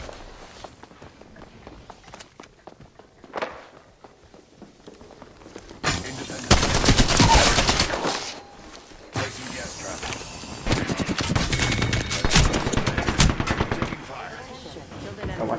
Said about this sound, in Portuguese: Estão atirando que tá em pé aí agora